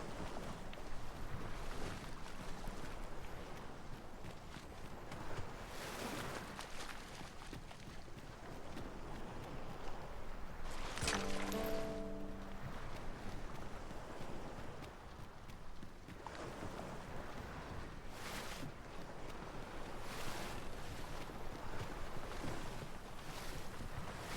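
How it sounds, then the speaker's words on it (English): Wind and sea waves from a video game, a continuous broad wash of surf and gusting air, moderately quiet, with a short tonal blip in the middle. "How vast the sea is. I imagine we would not escape a plunge into the water's depths."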